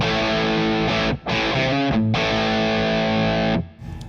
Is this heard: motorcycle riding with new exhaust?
no